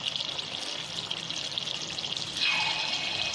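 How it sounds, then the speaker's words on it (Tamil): Vella appam batter, a sweet jaggery mix, drops into hot oil in a paniyaram pan and fries with a steady, close sizzling hiss that grows a little louder partway through as more batter goes in. "எண்ணெய் நல்லா கொதிச்சதுக்கப்புறம் இந்த மாதிரி போட்டுக்கோங்க. எவ்வளோ அழகாக பாயில் ஆகுது பாருங்கள்."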